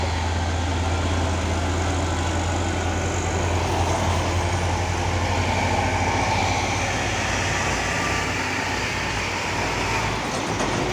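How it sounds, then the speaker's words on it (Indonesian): A heavy 6x4 palm oil truck engine rumbles steadily and loudly throughout, a deep continuous drone with no voices. "Pasukan truk sawit pemain 6x4 tadi membawa buah kelapa sawit"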